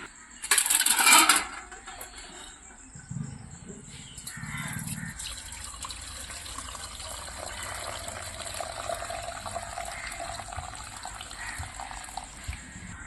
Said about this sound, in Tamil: தண்ணி நல்லா வடிகட்டி எடுத்தாச்சுங்க